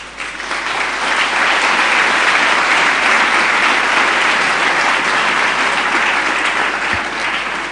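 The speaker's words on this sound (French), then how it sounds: "Applaudissez pour Agabus" A Bible camp audience of international students applauds loudly and continuously for several seconds, a thick, even roar of many hands clapping close by, swelling in at the start and holding steady.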